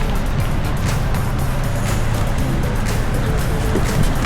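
Traffic rushes steadily along a highway near Karon Beach in Phuket, Thailand, with a loud, continuous rumble of passing vehicles and no pauses.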